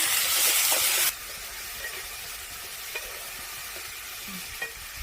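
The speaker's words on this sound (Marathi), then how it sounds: "बारीक कट करून घेतलेले शेंगा, छान परतून घेऊया आपण" Chopped drumstick pods hit hot oil with a loud burst of sizzle, then settle into a steady, quieter frying hiss with a few soft stirring clinks, close up and with no talking.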